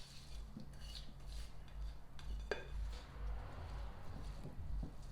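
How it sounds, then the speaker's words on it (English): A spoon scrapes and taps softly against a pan as sauerkraut is piled on top of pork chops. The faint clinks and rubbing continue in a low, steady kitchen background. "just put this all on top of the pork chops"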